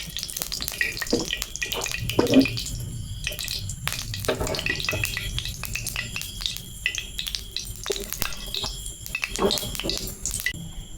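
Batter-dipped chops fry in hot white cooking oil with a steady, close sizzle and crackle. Scattered sharper pops and clatter from the pan run throughout.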